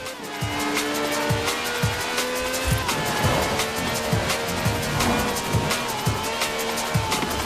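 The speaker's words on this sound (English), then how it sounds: "This has a V12 with over 750 horsepower" A V12 car engine of over 750 horsepower in Forza Horizon 4, revving hard through repeated gear changes with a steady, loud roar and occasional tyre noise.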